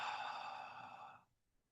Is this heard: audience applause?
no